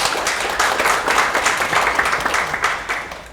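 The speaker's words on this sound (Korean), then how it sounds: "큰 박수로 부탁드립니다" An audience applauds warmly at a Korean panel talk, a dense steady patter of many hands clapping together.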